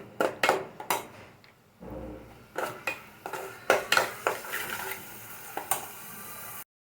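Sliced onions hit hot oil in a pan for a spiny gourd curry and start to sizzle. A spoon clanks sharply against the pan again and again as they are stirred.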